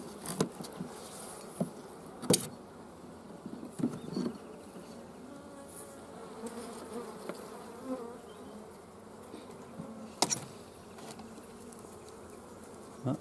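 Honey bees swarm around an opened hive during hobby beekeeping, a steady close droning buzz that fills the scene, broken by a few sharp knocks and clicks from handling the hive boxes.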